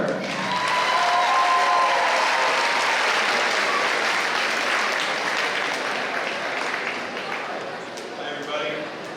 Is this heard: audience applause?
yes